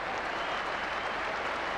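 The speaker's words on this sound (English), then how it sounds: "acknowledge the applause of his teammates on the balcony" Cricket teammates applauding from a pavilion balcony at a Test match, a steady, dense wash of clapping that fills the moment evenly from start to finish at moderate distance.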